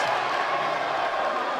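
Futsal derby crowd cheering as a steady, dense roar filling the hall, with a commentator's voice running over it.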